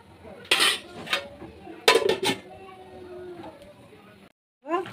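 A pot being handled and covered with a lid as water simmers with spices, with a few close metallic clatters and clinks. Faint speech sounds are also present.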